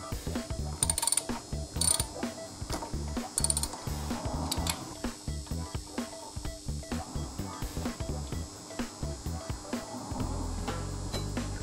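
A ratchet wrench removes a motorcycle brake caliper, with rapid repeated clicking of the pawl in close, steady bursts and no talk.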